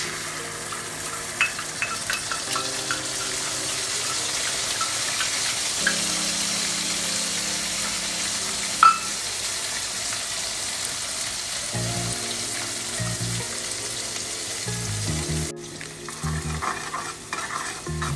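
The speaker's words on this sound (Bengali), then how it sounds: "এবার আমি ওই তেলের মধ্যে দিয়ে দেবো জিরে লঙ্কা বাটা" Cumin and chilli paste frying in the oil left after frying brinjal in a home kitchen: a steady, close sizzle with frequent stirring scrapes, and a faint tonal hum underneath.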